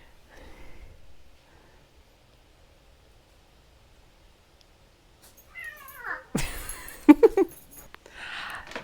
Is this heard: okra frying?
no